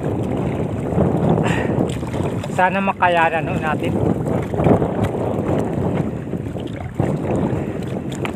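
Strong wind and large waves around a small handline fishing boat at sea, a constant rough roar of wind and water with brief talk and a short whistling tone in the middle.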